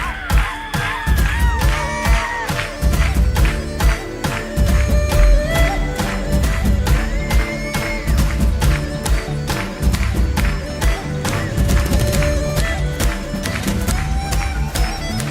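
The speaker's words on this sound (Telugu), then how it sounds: "ఈసారి అందరూ చప్పట్లు కొడతాం." At a church worship song, a crowd claps along in a steady rhythm, the claps blending with loud live music and singing throughout.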